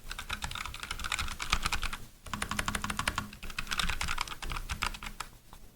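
A Redragon Horus K621 mechanical keyboard typed on up close, with dense bursts of rapid clacking keystrokes split by brief pauses around two and five seconds, no talking.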